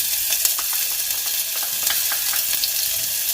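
Chopped scallions fry in a pan for maple and rosemary glazed pork cutlets, giving a bright, steady sizzle with small popping crackles throughout, close and uninterrupted by speech.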